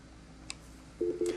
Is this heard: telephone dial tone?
yes